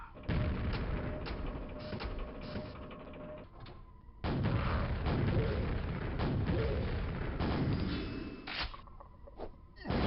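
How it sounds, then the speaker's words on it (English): Booming explosions and thuds from rocket launcher fire in Quake: Scourge of Armagon, with heavy blasts, mechanical clanks and sustained rumbling combat noise, loud and without talking. "Once again, I used all of my rocket ammo, killing one thing, and then losing the rocket launcher."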